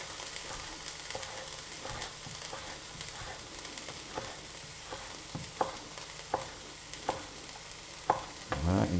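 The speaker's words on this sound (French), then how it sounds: "On va faire revenir les oignons" Onions, garlic and pancetta sizzle in a pan in a steady frying hiss, broken by occasional scraping stirs close up, with a louder clatter near the end.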